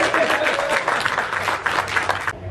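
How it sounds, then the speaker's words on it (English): Audience at a Maker Faire presentation breaks into brisk applause, a dense patter of clapping with some faint crowd murmur that cuts off sharply after a couple of seconds. "A round of applause for her."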